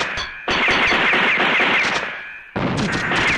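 Rapid automatic fire from an Uzi in a PS1 video game, loud sustained bursts with a brief gap before a second burst resumes.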